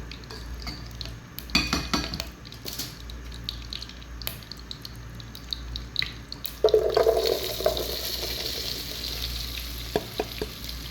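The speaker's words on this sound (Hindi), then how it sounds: "सारी भिंडी मैंने इसके अंदर डाल दी है।" Marinated okra (bhindi) tipped into hot oil in a pan, giving a rising sizzle and frying hiss with stirring scrapes, steady and close, without any talk.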